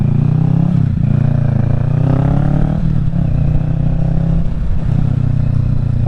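Kawasaki Ninja 650 from 2023 fitted with a Yoshimura Alpha exhaust, heard loud and close as the engine revs and then decelerates, a steady deep drone with rising and falling pitch and some crackle on the overrun.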